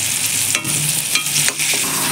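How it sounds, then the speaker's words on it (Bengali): Ginger garlic paste frying in hot oil in a pan while cooking chicken, a loud continuous sizzle broken by a few scraping stirs of a spoon, close up with no talking. "আদা রসুনটা যেটা দিয়েছিলাম সেটা ভালোভাবে কষিয়ে নিয়েছি"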